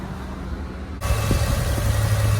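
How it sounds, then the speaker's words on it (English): A 2002 Toyota 4Runner SUV engine idles quietly, then jumps to a louder, fuller steady hum and keeps running smoothly, heard close up with no voices. "There's your engine running."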